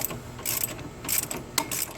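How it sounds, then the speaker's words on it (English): A ratchet loosens a tight CV axle nut on a 2011-2019 Ford Explorer, driver's side, in repeated bursts of rapid metallic clicking between short pauses, close by and fairly loud. "An extended ratchet or breaker bar will be necessary here."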